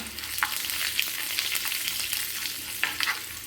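Cumin and mustard seeds fry in a pan, giving a steady, close sizzle with a few sharp crackles and pops as the mixture is stirred.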